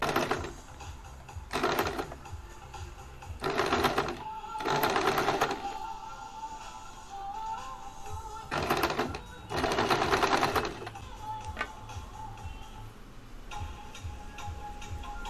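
A sewing machine stitches a small frock for a Laddu Gopal doll in bursts of fast, steady running, about five runs of a second or two each with quieter pauses between them.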